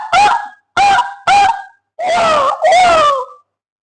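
A human voice imitates the call of a kulakkozhi waterhen, giving three short loud calls followed by two longer drawn-out wavering cries, close and alone.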